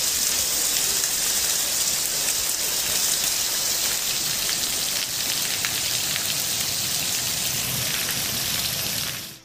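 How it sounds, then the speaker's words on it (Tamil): Heavy rain pours steadily in Krishnagiri district during a thunderstorm, a dense, loud and unbroken hiss of water that continues for the whole stretch with no voices. "இடி மின்னலுடன் கனமழை கொட்டியது"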